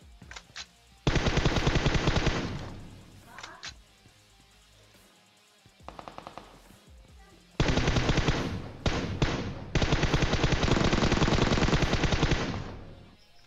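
Rapid automatic rifle fire from an M4 and other guns in PUBG Mobile, long sustained bursts alternating with short volleys and gaps, loud and close with no talking.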